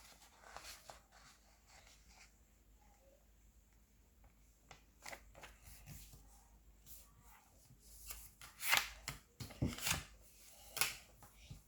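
Paper is creased and folded into a paper airplane up close, with soft rustles and sharp crinkling snaps that grow louder toward the end, under a quiet room background.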